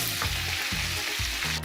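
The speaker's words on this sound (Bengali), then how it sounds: "তারপরে রসুনটাকে একটু ভেজে নেব" Chopped garlic frying in oil in a pan for Turkish baldo rice, a dense continuous sizzle close up with a few soft stirring scrapes, no voices.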